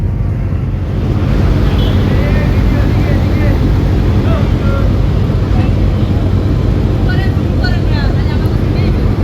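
A passenger launch pulls away on the river at Barisal, heard from the roof deck as a loud, constant engine drone mixed with wind rush, with indistinct voices in the background.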